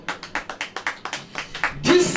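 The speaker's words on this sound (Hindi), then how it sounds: "ताली बजाइए।" A church congregation at a sermon claps in a brisk, even rhythm, about a dozen sharp claps in a row, then swells into louder, looser clapping and crowd noise.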